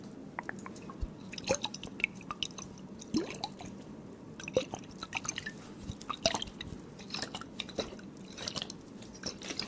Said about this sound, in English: Cold water sounds. Yes, cold water sounds.